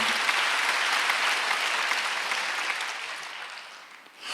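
Congregation at a Sunday worship service applauding steadily, a dense wash of many hands clapping that holds for several seconds before tapering off, with no talk over it.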